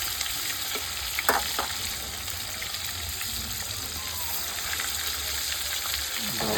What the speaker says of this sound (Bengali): এমন করে ছাড়তে হয় মাছ, আস্তে আস্তে। জোরে, খুব জোরে ছাড়লে আর কি তেল ছিটকে যায়।